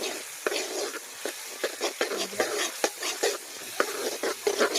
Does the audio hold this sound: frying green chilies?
yes